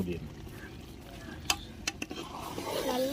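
Biryani with garam masala being stirred in a pot, soft scraping and clinks of the spoon against metal with a few sharp knocks midway, over a low background hum.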